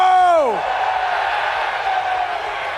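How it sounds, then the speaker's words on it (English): A loud crowd roars and cheers at a UFC press conference in Miami, a dense, steady wall of noise after a brief opening tone, with voices mixed into the din. "We got a loud crowd"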